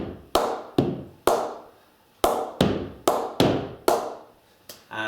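Repeated sharp, pinging knocks of a cricket ball bouncing on a new, unoiled willow cricket bat, about nine close, crisp hits in a fairly steady rhythm with brief ringing decays.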